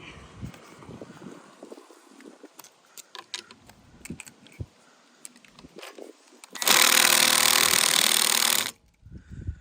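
Impact wrench fitted with a 1/2-inch socket working on a nut while fitting hand guards to a Harley-Davidson Low Rider ST: a loud, steady burst of about two seconds near the end, after scattered handling clicks and taps.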